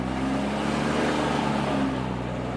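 A Cummins diesel truck with an S464 turbo holds a steady, loud, droning rev, its low engine tone continuous and close.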